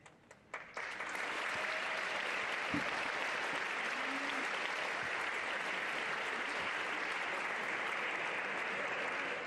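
Sustained applause from a large audience at a school graduation celebration, swelling within the first second and then holding steady and loud throughout.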